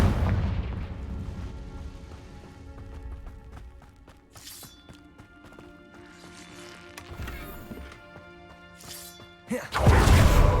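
Repeated Confringo blasting curses explode in the Hogwarts Legacy game, with bursts of booming impact over a layered music bed, the loudest detonation crashing at the very end.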